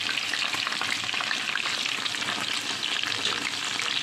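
Frying in hot oil for a stuffed pigeon and rice dish, a dense, loud, crackling sizzle that runs steadily without pause or talk.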